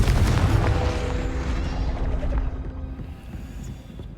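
A Confringo blast spell in Hogwarts Legacy goes off as a deep, rumbling boom that fades slowly over several seconds, with a thin ringing tone beneath the decaying roar.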